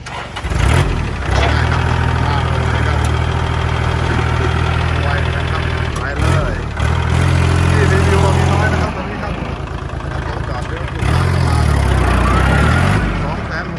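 A Kubota L3608 tractor diesel engine cranks, catches and runs at a loud, steady idle close by. Its deep drone dips briefly a couple of times, then resumes.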